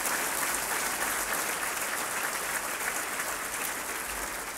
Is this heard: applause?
yes